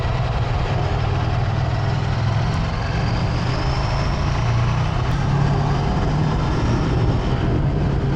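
A Ducati Scrambler 800 motorcycle is being ridden, its engine droning steadily and loudly underneath a constant rush of wind noise, with no break in the roar.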